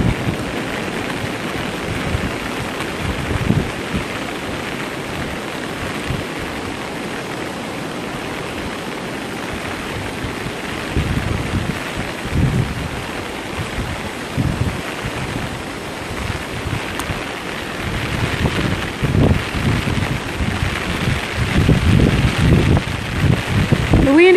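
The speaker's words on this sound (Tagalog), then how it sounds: "Wind is too strong and the rain is too strong." Heavy rain and strong gusting wind during the habagat monsoon season at Boracay's D'Mall and Front Beach Station 2, a loud steady roar buffeting the microphone throughout with occasional stronger gusts, no voices heard.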